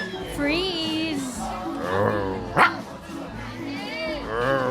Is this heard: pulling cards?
no